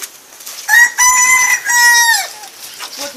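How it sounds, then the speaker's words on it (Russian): A rooster on a farm in the village of Manzherok gives one loud, close crow lasting about a second and a half, rising and then trailing off, followed by a few soft clucks. "Вот недавно петуха купила."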